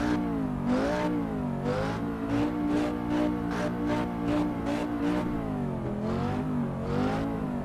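A 5-cylinder race car engine in the AC EVO racing game revs repeatedly, rising and falling in pitch through quick gear shifts, loud and steady throughout.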